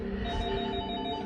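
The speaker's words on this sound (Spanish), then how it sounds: "Acabamos de quitarle las baterías a este maldito teléfono y aún sigue sonando." A telephone with its batteries removed rings continuously, a steady, fairly quiet electronic tone that fills the whole moment with no pauses and no voices.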